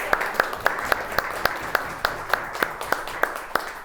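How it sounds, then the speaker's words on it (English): A brief, sparse round of clapping from a small audience at a company retreat keynote, with distinct individual claps spaced in a loose steady rhythm, fairly close and moderate in volume. "Quick round of applause for that"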